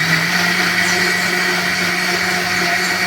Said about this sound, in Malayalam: എന്നിട്ട് ഇതാ എല്ലാം കൂടെ പഞ്ചസാരയും മാങ്ങയും കൂടിയിട്ട് നന്നായി ഒന്ന് അടിച്ചെടുക്കുക.